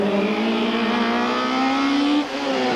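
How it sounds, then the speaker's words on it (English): Volkswagen rally car tackling the final stage around a parking area at Warmer Park in Port Elizabeth in 1994, heard from inside the cabin: a loud, steady engine drone holds high revs, then dips briefly near the end as the gear or throttle changes. "We join them in car as they tackle the final stage around the parking area"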